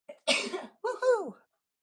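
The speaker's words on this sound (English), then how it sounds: "I did have to sneeze." A single person's sneeze, heard as a quick sharp intake followed by a forceful burst and a short voiced trailing exhale, close and clear in an otherwise quiet room.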